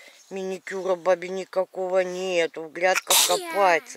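One sharp sneeze bursts out amid steady conversational talk outdoors in a village garden.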